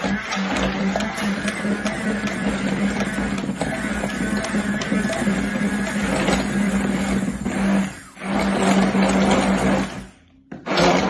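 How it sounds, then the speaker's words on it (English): A hand blender whirs steadily as it blends butter into a mixture in a kitchen, a loud continuous motor drone that dips briefly near the end and then stops. "use the hand blender to blend it a wee bit"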